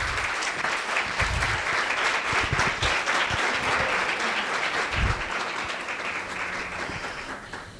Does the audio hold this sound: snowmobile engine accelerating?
no